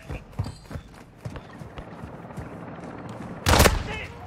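Gunfire in Call of Duty: Modern Warfare 2: scattered sharp shots early on, then a loud, dense burst of firing near the end, with footstep-like thuds in between.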